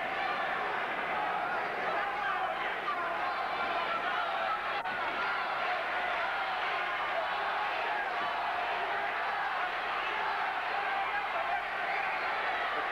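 Steady roar of a boxing arena crowd cheering on Julian Solis during a bout against Jeff Chandler, a dense continuous wash of distant voices with a ringside commentator talking over it.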